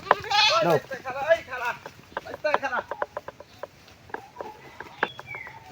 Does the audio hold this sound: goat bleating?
yes